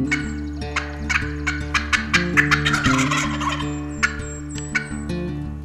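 Several wild turkey toms in full strut gobble repeatedly and loudly near a hunter's position, bursts of calls overlapping at a quick, irregular rhythm over a steady low background hum.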